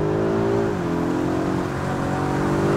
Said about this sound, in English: The acceleration is on supercar level,